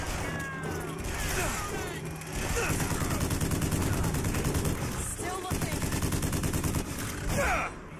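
Rapid gunfire fills a Bioshock Infinite firefight, dense bursts of loud shots running almost continuously with brief gaps, while a voice talks over the action.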